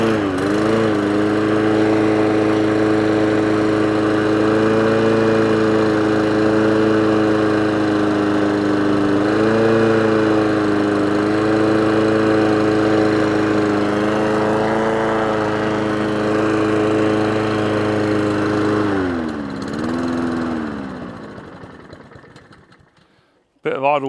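A lawn mower engine that needs carburetor idle adjustment runs close and loud at a steady idle, surging slightly now and then, then dies away near the end.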